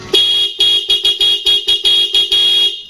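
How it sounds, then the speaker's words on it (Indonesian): A Yamaha Lexam motorcycle horn wired to a custom button honks loudly in a rapid series of about ten short bright blasts, close up, with no talk. "Ini sengaja tak bikin tombol klakson."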